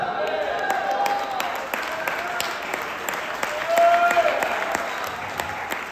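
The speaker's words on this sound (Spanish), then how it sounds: "Aplausos si pueden." Audience applauding in a hall, a steady wash of many hands clapping at a moderate distance that swells briefly toward the end, with a voice faintly underneath.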